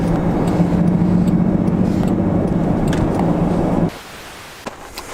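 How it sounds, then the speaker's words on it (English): A 1995 Ford F350 truck drives along with a steady engine drone and road rumble, close and continuous, until the sound falls away to quiet with a few faint clicks. "This is the truck, a 95 Ford F350."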